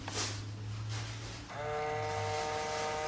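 A faint, steady electric motor whine from a cheap used Range Rover's folding side mirror starts halfway through over a low background hum, straining without stopping as the mirror tries to fold.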